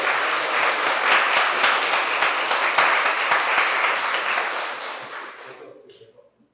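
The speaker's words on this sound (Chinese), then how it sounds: "让我们再一次的掌声，欢迎他开始。" A church congregation applauds at a Taiwanese-language Sunday service, a dense sustained clapping from many hands that holds steady for about five seconds, then thins and fades out.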